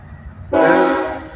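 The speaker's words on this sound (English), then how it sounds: "This is the train heading out to," Train horn blasts suddenly and loud as a train pulls out of Augusta bound for Greenwood, a sustained chord holding steady after the onset.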